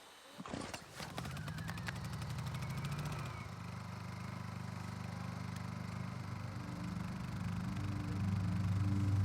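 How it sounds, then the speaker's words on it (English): A drill bores holes into frozen Arctic sea ice, starting with a sharp crack and clatter before settling into a steady, low mechanical whine that grows slightly louder toward the end, heard close with wind in the background. "drills holes for the wires that are frozen into the sea ice"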